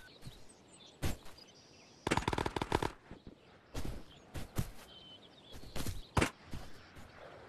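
Distant gunfire in the shooter game Ghost of Tabor: several separate bursts of rapid automatic shots and single cracks, spaced irregularly over a quiet background with faint ambient noise.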